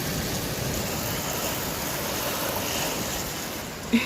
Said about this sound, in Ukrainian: Просто подивіться, як... яка злива.